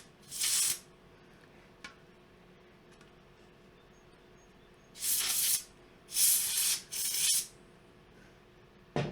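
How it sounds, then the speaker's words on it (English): Canned air sprays in short bursts onto the heat sinks of an Antminer Z9 mini crypto miner being cleaned: one brief blast, a pause, then three close hissing bursts in quick succession, with no talking. "I just suggest using some canned air"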